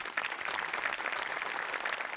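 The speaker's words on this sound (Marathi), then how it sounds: "मोठे आणि अमोल पाटलांसाठी एकदा टाळ्या वाजव्या." Audience applause at a comedy show, a steady, moderately distant patter of many hands clapping continuously with no voices over it.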